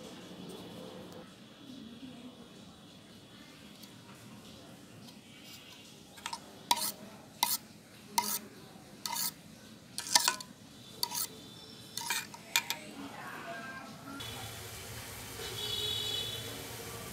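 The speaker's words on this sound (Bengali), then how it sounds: "এখন দিয়ে দিচ্ছি ডিম। দেওয়ার পর ভালোভাবে মিশিয়ে নেব।" An egg is mixed into a mango pudding mixture, with a quiet stretch of faint background noise followed by a close series of about a dozen sharp, evenly spaced clinks of a utensil against a bowl.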